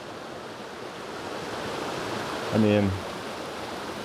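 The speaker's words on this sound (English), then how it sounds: "This stunning waterfall." Waterfall cascading over rocks beside ice at a mountain hiking spot, a steady broad rush that fills the whole clip, with someone speaking briefly near the end.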